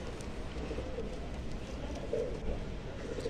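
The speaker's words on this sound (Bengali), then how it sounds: "তো চলুন পরবর্তী একটা পায়রা আমরা শখ করব" Pigeons kept for sale, including kalsira and lal siri pairs, coo softly and repeatedly in the background under a steady, faint ambient hiss.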